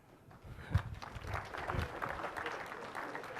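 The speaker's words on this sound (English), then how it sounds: "Big hand of applause." Applause from a conference audience at a Tech·Ed North America 2011 technical session, a moderate burst of clapping that swells and holds steady, heard from within the room.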